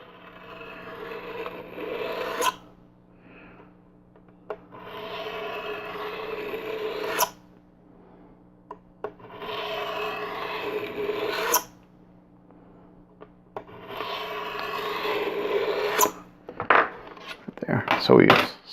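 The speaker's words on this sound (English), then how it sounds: "I'm going to let the chisel do the work." A very sharp chisel, held under no pressure, rasps in several separate passes to scribe a line, each stroke lasting two to three seconds with short quiet gaps between, close and clear, followed by a few sharp metallic clicks.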